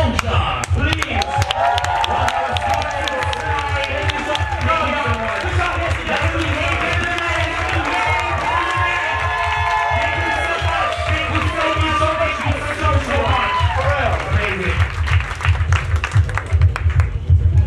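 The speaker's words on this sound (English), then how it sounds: "can we please put a big round of applause for the one and only Lee Sojar" Dense crowd noise fills a ballroom event, steady applause and cheering blended with shouting and loud background music throughout, with no break.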